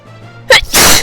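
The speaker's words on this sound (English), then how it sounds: "I've been sneezing all day." A single loud, close sneeze bursts out abruptly after a brief quiet moment.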